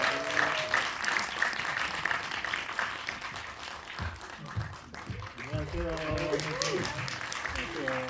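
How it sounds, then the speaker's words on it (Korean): An audience in a cinema applauds steadily for a film's director and actor arriving at a post-screening talk, with voices and music-like tones mixed in and continuing throughout. "여러분들 큰 박수 주시면 등장하시겠습니다. 박수 부탁드립니다."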